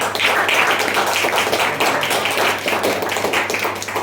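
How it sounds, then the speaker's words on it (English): At a Pongal celebration meeting, an audience claps for a debate team, giving loud, close, continuous applause that holds evenly throughout. "let's have a big round of applause for them"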